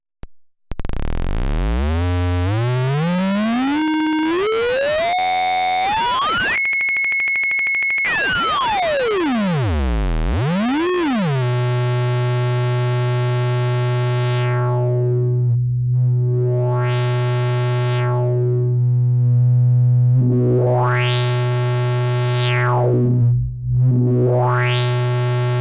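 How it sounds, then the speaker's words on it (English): An Eowave Weather Drones Eurorack synth voice with its LFO pushed into audio range, sounding as loud sweeping sine-like tones that glide up and down, then a sustained steady drone with repeated rising and falling swept overtones. "The LFO goes into audio range and also offers a square wave output."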